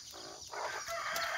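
A Putad crossed with red junglefowl chicken gives a drawn-out vocalization, close by and moderately loud, rising into a strained crow-like call over faint background noise.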